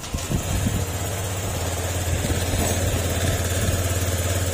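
Honda Click 125/150 scooter being started after a coolant overheating repair, then idling with a steady low thrum, a few clattering ticks at the start and no talk.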